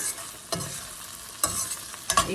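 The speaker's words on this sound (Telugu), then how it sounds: "దీన్ని అన్నంలో వేసి కలుపుకుందాం" Gongura mixture stirred into quinoa rice in a pan, three soft scraping sweeps spaced about a second apart, with a faint sizzle underneath and no voices.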